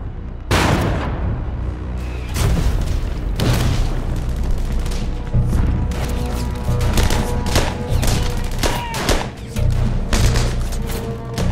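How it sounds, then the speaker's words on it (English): Dense battlefield gunfire from a reenacted World War II fight at the Remagen bridge, rapid overlapping rifle and machine-gun bursts with heavy booms, loud and continuous throughout. "Now with some covering fire, Timmerman orders his platoons onto the brid"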